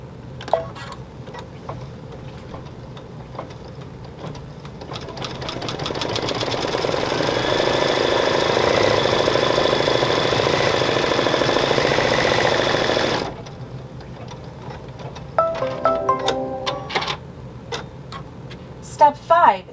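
Embroidery machine stitching a secure stitch for an ear design on a children's T-shirt, a loud steady mechanical whir with rapid ticking that runs for several seconds, stops abruptly, and is followed by a few clicks and beeps.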